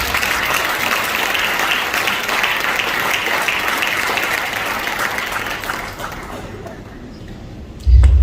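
An audience at a graduation ceremony applauds with sustained, broad clapping that fades toward the end before a sudden low thump.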